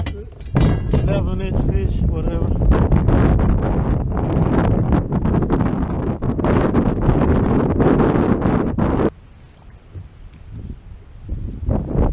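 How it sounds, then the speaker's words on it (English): Strong wind buffets the microphone with loud, rumbling gusts that drown out everything, easing briefly near the end before picking up again, while fishing on Lake Houston. "A little windy"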